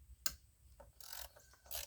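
Ratchet with an 8mm socket turning throttle body bolts set in brass inserts on a plastic intake of a 2014 Ford F150, a few quick clicking bursts and a sharp metallic tap, faint and close.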